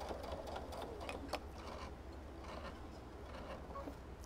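A sewing machine runs zigzag stitches on a plush horse stuffed animal, a quiet, close whirring with soft rhythmic ticking and small clicks, alone without talk.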